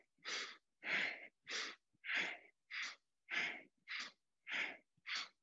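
Audible breathing during seated chair yoga, with about nine steady, evenly spaced breaths through alternating nostrils, each a soft airy whoosh, close and alone without talk.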